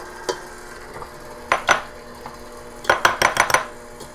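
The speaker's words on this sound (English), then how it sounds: "Five beautiful eggs into the mix." Eggs cracked and dropped into cake batter for a Christmas plum cake, heard as a few sharp taps on a bowl rim and a clustered run of clinks and wet plops nearby, with no talking.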